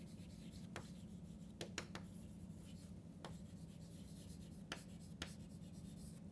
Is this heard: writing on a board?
yes